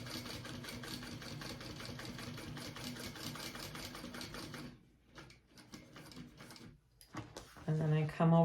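A sewing machine runs steadily for several seconds, top stitching down each side of an open bag seam, then stops, leaving quieter handling noises and a brief rising tone near the end.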